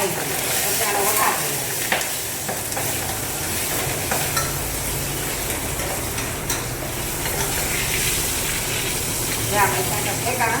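Green chillies fried in hot oil for a Gujarati tempering give off a steady, close crackling sizzle with occasional louder pops and spatters. The sizzle runs continuously throughout, with some stirring.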